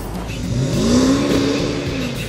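BMW 550i engine revving hard under full-throttle acceleration, a loud, rising engine note building steadily and then holding, heard close from inside the car with no talking.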